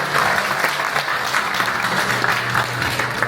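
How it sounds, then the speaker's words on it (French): An audience at a Kraken event in France applauds as a speaker is welcomed on stage, a dense, loud and continuous burst of clapping with a faint low murmur beneath it. "Applaudissez-le"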